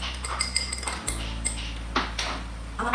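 A spoon stirs water and dish soap in a glass, giving quick repeated clinks and taps against the glass with a steady low hum underneath.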